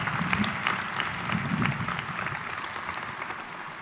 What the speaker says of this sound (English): Can we give them one more round of applause, please?